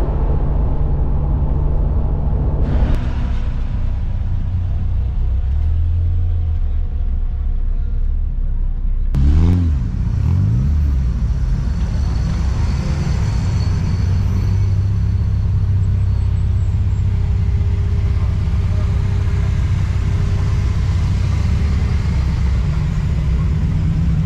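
A modified car driving along the road at a car show, its engine rumbling steadily up close with revving swells and a sharp burst of noise midway, continuous throughout with no talk.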